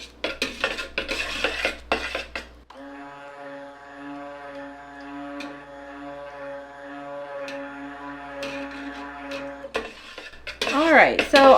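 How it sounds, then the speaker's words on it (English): In soap making, a metal utensil stirs soap in a metal pot, giving a steady rasping scrape with a faint metallic ring. Clattering handling noises come before and after it. "I have metal on metal here, so you're going to hear some of that scraping sound."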